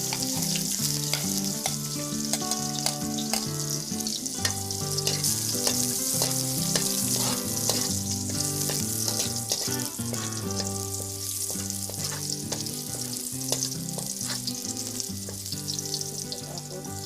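Garlic frying in a pan of olive oil and cooking oil for chicken tinola gives a steady, bright sizzle that runs the whole time beneath tuneful background music.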